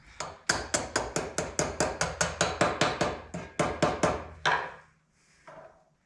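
A blacksmith hammers hot steel while forging a pair of miniature tongs: a steady run of about twenty sharp, ringing blows in even rhythm, close and loud, then a pause and faint shop noise.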